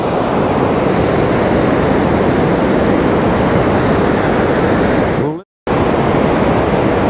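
Water rushing through a mountain stream with small waterfall cascades, a loud steady broadband roar that fills the whole clip, cut by a brief dropout near the end.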